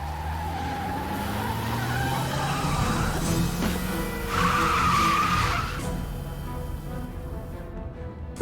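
A sports car in Broken Sword: The Sleeping Dragon skids past with a loud, sustained tire screech and engine roar, rising to a peak midway before fading away, with no voices over it.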